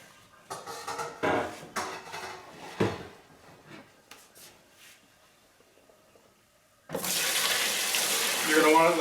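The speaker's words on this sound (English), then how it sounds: "And we're going to pour the must into the primary fermenter." Wheat beer must is poured into a primary fermenter, preceded by a few scattered knocks and clatters, then a loud, continuous splashing gush of liquid that rises in the final seconds.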